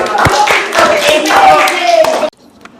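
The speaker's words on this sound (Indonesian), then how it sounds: "tepuk tangan" A group of children in a classroom clap their hands together, a loud burst of irregular claps with voices mixed in, stopping abruptly near the end and leaving near silence with one faint tap.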